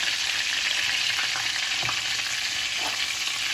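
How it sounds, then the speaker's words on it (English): Chicken shallow frying in oil over low heat gives a steady, close sizzle that runs unbroken throughout, with no talking. "we've turned it down to a nice low heat and just shallow fry the chicken for 5 or 6 minutes on each side"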